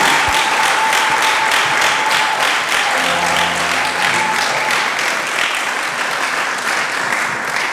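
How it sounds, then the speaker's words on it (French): Loud, sustained applause from a church congregation honoring a pastor, a dense continuous wash of clapping with a brief held musical tone and low hum beneath it midway. "Je demande d'applaudir pour lui."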